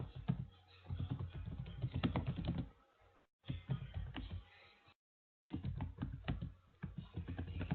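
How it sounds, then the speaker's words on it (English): Someone types an explanation on a computer keyboard in fairly continuous, close clicking bursts that break off briefly twice, with no speech over it. "And here I can just type in my explanation."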